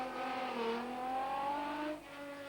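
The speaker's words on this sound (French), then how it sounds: "une BMW à l'échappement sauvage" A BMW race car with a wild exhaust on a hill climb course, its engine howling and rising through the revs, then dropping briefly before pulling again, heard at a distance and fairly faint.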